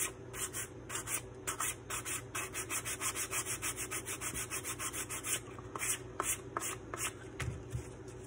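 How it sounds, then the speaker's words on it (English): Sandpaper scuffs the edges of a tumbler cup being prepped for a distressed finish, a close, brisk run of rhythmic rubbing strokes that speed up and then loosen toward the end. "I always take the sandpaper around like this to scuff it up"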